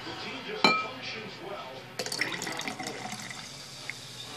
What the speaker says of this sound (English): Pour the rest up in there.